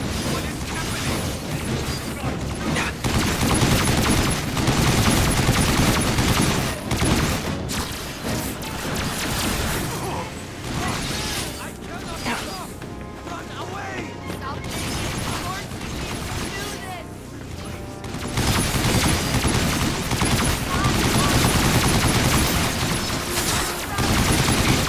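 Gunfire fills a video game scene with dense, nearly continuous bursts and rattling shots that stay loud for the whole stretch, while a voice talks now and then.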